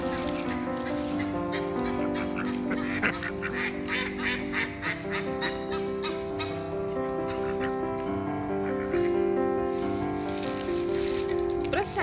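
Ducks and white geese at a park being fed bread crumbs, a steady chorus of quacking and honking calls close by, continuous throughout with no talk.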